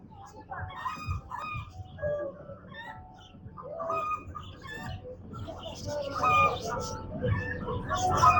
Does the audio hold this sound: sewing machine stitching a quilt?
no